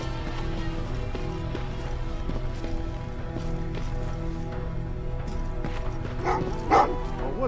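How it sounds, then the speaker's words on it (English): Dogs bark in the Terminator: Resistance video game amid a droning background score, with repeated short barks and yips spread throughout and a louder burst near the end. "What's with the dogs?"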